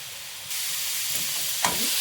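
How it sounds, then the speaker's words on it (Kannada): Tomatoes frying in oil in a pan, a steady bright sizzle that rises suddenly and keeps hissing, with a soft stirring scrape near the end. "ಹಾಗೆ ಟೊಮೆಟೊ ಇದಿಷ್ಟು ಸ್ವಲ್ಪ ಫ್ರೈ ಮಾಡ್ಕೊಳ್ಳೋಣ."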